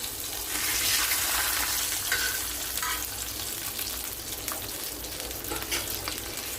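Fish frying in hot oil in a home kitchen, a dense continuous sizzle and crackle heard up close for the whole stretch, with no one speaking.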